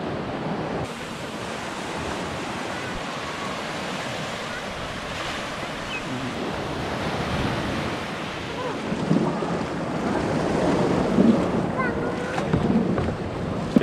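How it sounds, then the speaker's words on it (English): Tender boats motoring across open water in Vanuatu, a steady engine drone under wind buffeting and the wash of waves, with the hull slapping louder near the end. "These are the tenders to get back out to the mothership."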